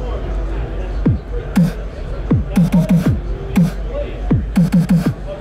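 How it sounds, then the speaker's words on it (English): A snare hit cut into three slices in iZotope Break Tweaker, playing as a quick pattern of punchy drum hits with short pitched sweeps between them, loud and alone. "So if I want to take that snare hit and divide it into 3, I can totally do that."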